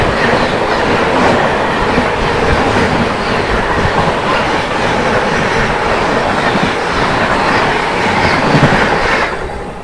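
A Nizamuddin–MGR Chennai Central Duronto Express rumbles past close by, a loud steady roar of wheels and cars with clattering rail joints throughout, easing off at the very end.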